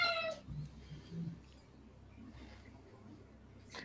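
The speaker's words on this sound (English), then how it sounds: "That was our cat." A domestic cat meows in a brief burst at the start, fairly close and clear, followed by quiet room tone with faint low rumble and a short bright sound near the end.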